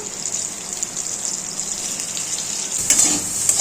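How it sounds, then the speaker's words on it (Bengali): Cauliflower florets fry in oil in a wok with a steady, close hiss that holds throughout and grows slightly louder and busier near the end. "তেল দিলাম কড়াইয়ে তেল দিয়ে একে একে এবার ফুলকপিটা ভেজে নিলাম"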